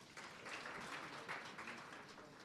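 An audience at an education summit in Omaheke, Namibia, gives a faint, steady round of applause, distant and continuous without speech.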